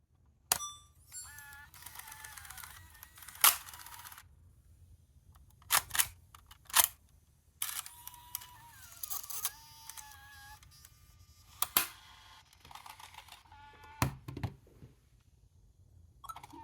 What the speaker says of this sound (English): there is an issue with the tape mechanism, which I am currently trying to fix and diagnose